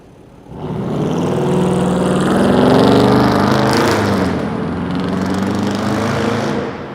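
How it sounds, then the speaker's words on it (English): A noisy vehicle roars past on Adelaide Street in downtown Toronto on Christmas Eve, its loud engine rumble swelling up close, then gradually easing away. "That is a noisy ass vehicle."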